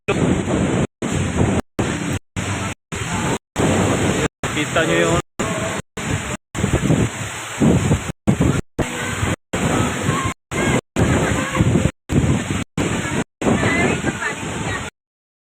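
Strong wind and crashing sea waves roar at a beach resort with cottages, a loud continuous wash broken by brief gaps, with people talking over it at times.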